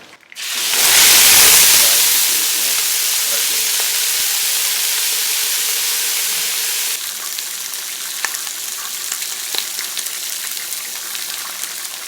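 A loud burst of sizzling as meat hits hot oil in a pot, settling into a steady crackling fry that continues close by.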